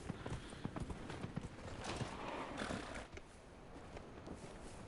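Horse hooves clip-clop along at a steady, plodding walk in Dragon Age: Inquisition, the rhythmic footfalls close and clear over a constant game ambience that swells faintly in the middle.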